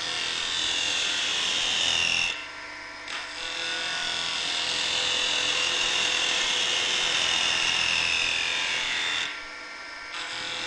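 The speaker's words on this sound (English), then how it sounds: "In this sequence we use the tool to cut across end grain, taking a series of light cuts to round over one end of this square stock." Robert Sorby Spindlemaster tool taking light cuts across the end grain of square wood stock on a lathe, a loud close hissing whir broken by two short pauses between cuts.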